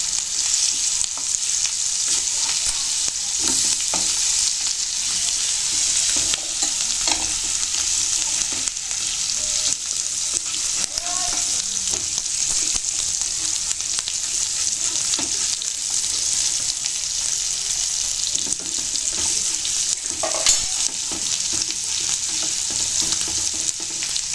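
Fish frying in a pan for Telangana-style fish fry, a steady, dense hiss of sizzling oil that runs unbroken and close, with occasional faint pops and clinks.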